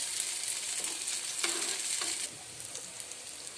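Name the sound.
eggplant slices being fried in a pan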